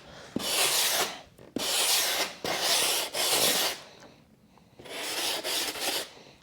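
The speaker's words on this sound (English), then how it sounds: "The longer you do strokes, the more consistent your sanding pattern will be along the edge." Sandpaper is drawn by hand along the edge of a carbon fiber front splitter in long, even strokes. About five rasping passes come with brief pauses between them, close and loud, with no talking.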